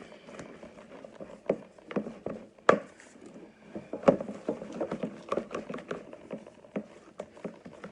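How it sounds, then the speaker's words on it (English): Flour mixture being mixed in a bowl, heard as soft, irregular scraping and tapping strokes with occasional sharper knocks, close and fairly quiet. "So we mix this all up."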